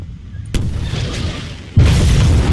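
A nuke detonates in Garry's Mod with a sudden loud blast, then a sustained roaring rumble that surges even louder partway through.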